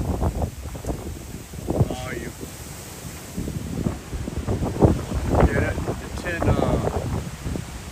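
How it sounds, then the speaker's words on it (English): Strong wind buffets the microphone in gusty, rumbling bursts outside a storm-damaged house in the Philippines, loud and continuous, with a person talking intermittently under the roar. "But when I face the other way, the wind is not so bad."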